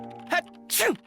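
A character in the Nancy Drew: The Curse of Blackmoor Manor video game sneezes: a short intake burst followed by a louder, sharp 'choo' with a falling voiced tail, close and alone.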